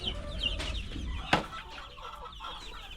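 Several caged laying hens give repeated clucks and a brief sharp squawk, near and fairly loud against a steady farm background.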